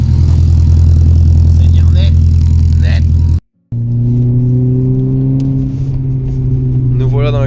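A Renault Clio 3 RS engine cranks and catches, then idles with a steady low hum while the throttle is blipped in loud, close revs. A short silent gap falls mid-way, and a voice is faintly present.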